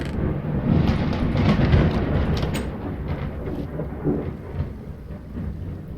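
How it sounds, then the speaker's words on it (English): A Minecraft TerraFirmaCraft thunderstorm rumbles with loud, sustained low thunder that swells early and then slowly fades under steady rain hiss, with no one speaking. "You can't complain of the thunderstorm."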